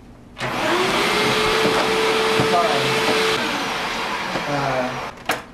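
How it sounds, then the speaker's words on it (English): Vacuum cleaner running during a home demonstration, a loud close steady motor whine that starts abruptly, holds for several seconds with slight pitch shifts, then winds down. "I'll be demonstrating your vacuum for you today."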